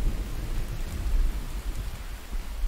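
Rain and thunder in a video game, a dense steady wash of rainfall with a deep rumbling low end throughout, continuous and fairly loud with no voices.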